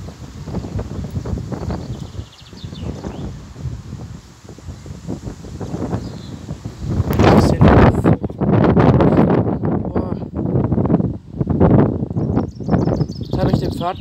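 Strong storm wind gusting and roaring outdoors during a severe low-pressure storm, with buffeting noise and rustling that swells louder partway through, while a person talks throughout.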